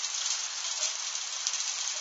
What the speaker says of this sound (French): Oh, y a le beau grésil qui saute là!